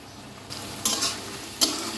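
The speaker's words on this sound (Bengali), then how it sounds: "মশলার মধ্যে কিন্তু আমি আলুগুলোকে দিয়ে দিয়েছি, আলুগুলো সুন্দর মতো কষিয়ে নেব।" Potatoes sautéed and stirred into spices in a pan for a vegetarian dish, giving a low sizzle with a few brief scraping stirs, close and quiet, with no talking.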